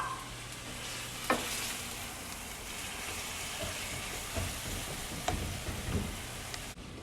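Meat simmering in a pan with low-sodium beef broth, a soft steady bubbling sizzle with a few scattered utensil taps and clicks, fairly quiet and close, with no voices.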